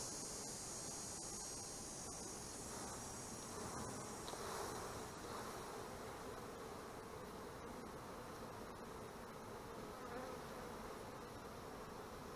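Honeybees swarm thickly around an open hive in an overcrowded colony, producing a steady, dense droning buzz that holds evenly throughout, close but soft, with no talking.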